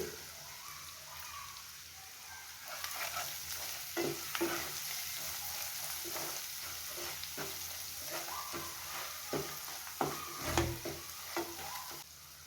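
Ginger garlic paste fries in a pan for a fish curry with a steady, quiet sizzle, broken by a few scraping stirs near the end.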